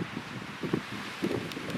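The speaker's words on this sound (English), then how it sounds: "A little windy out." Wind gusts buffet the microphone outdoors on a snowy mountain hike, a low rumbling bluster in uneven bursts that sounds close and rough, with no talking.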